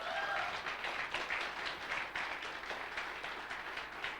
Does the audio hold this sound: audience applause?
yes